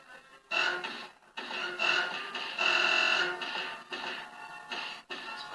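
Future Pinball video game sound effects play through speakers: a run of buzzy electronic bursts and tones with short gaps, moderately loud, with no talk.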